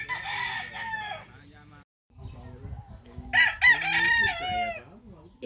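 A rooster crows loudly nearby, with clucking chickens and another crow following; no talking; gamefowl at a game farm.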